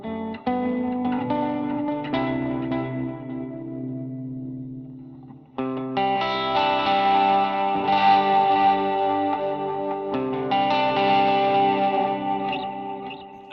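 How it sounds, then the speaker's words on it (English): Electric guitar chords through a Line 6 HX Stomp Nova delay ring out with echoing repeats trailing behind each strum, the playing building into a fuller, brighter passage midway. "I just added on the Nova delay, so let's see how that's kind of sounding for me"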